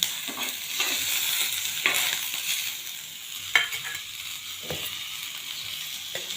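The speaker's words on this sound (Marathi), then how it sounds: "अशा प्रकारे सर्व मिक्स करून छान व्यवस्थित परतून घ्यायचं आहे" Chickpea curry masala is sautéed in a pan, a steady frying sizzle broken by repeated spoon scrapes and stirring knocks at an irregular pace, with no talking.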